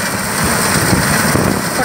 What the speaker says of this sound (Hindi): ये 385 ट्रैक्टर है,